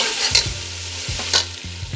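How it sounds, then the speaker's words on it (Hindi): Peas frying in a pan after a splash of water, with a steady close sizzle and repeated rhythmic stirring scrapes, and no voices. "थोड़ा सा पानी का छिंटा देंगे इसमें और मटरों को करेंगे फ्राई।"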